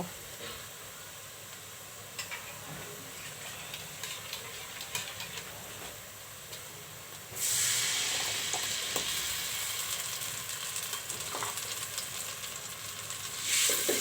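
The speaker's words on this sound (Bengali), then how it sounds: "আমি একটু কষিয়ে নিব" Spice masala sautéing for a mirga fish curry, a steady sizzle with scraping stirs that swells to a louder, brighter hiss halfway through as the pan heats up, close and continuous with no talk.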